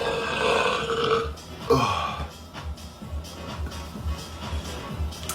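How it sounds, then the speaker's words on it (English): A man belches loudly and at length, one drawn-out guttural burp with a rough, croaking texture that fades into quieter throaty rumbles. "It's just like a weird talent to burp like this."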